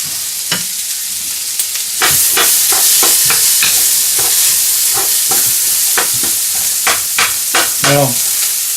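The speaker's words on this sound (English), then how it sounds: "whenever I'm cooking onions, I like to put a little bit of butter in it" Onions fry in butter in a pan for sausage orecchiette, with a strong, loud sizzle and frequent rhythmic scrapes and taps of a utensil stirring close by, and no speech.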